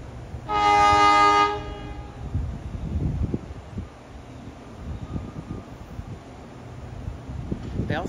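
An NJ Transit Arrow III electric train at Summit station in New Jersey sounds a loud horn blast near the start, then rumbles and rattles past, wind buffeting the nearby recording.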